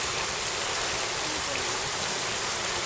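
A resort water feature in Cancun sends out a steady, even rush of flowing and splashing water. The sound is close and continuous, with no pauses and no voices over it.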